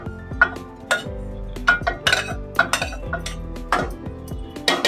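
A metal spoon stirs rice for coconut rice through a metal pot, giving close, repeated scraping and clanking strikes in an uneven rhythm, loud and alone with no talk.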